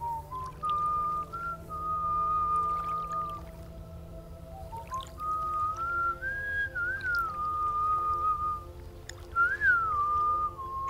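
Wind whistles steadily through the ambience of the video game The Stillness of the Wind, a thin wavering tone that rises and falls over a low constant drone, soft and continuous with no talk.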